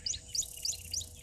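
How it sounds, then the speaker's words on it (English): Rapid high-pitched bird chirps in knob thorn trees at a waterhole, repeating in a steady rhythm, about five short tweets, fairly faint with a quiet background. "in these knob thorns, there's so many different birds"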